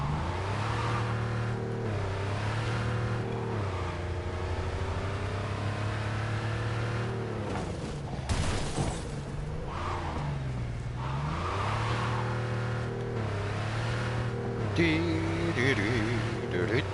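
Car engine hum and revving while driving in Cyberpunk 2077, a steady drone with rising and falling pitch throughout, with someone talking over it.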